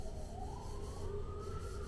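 An ambulance siren wails faintly in the distance, its tone sliding upward over a low background rumble.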